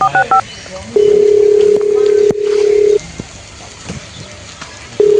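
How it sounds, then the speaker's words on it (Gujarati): A telephone being dialed to call a police station: a short burst of keypad tones at the start, then long steady dial tones, moderately loud, with faint bird cooing in the background. "પોલીસ સ્ટેશનમાં ફોન કરવો પડશે મારે"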